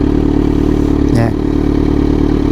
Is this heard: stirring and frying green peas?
no